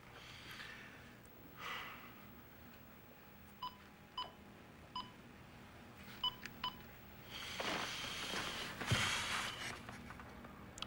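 A telephone number dialed on a keypad: a run of short, evenly spaced touch-tone beeps in two clusters, followed by a louder rustle and breathy handling noise near the microphone.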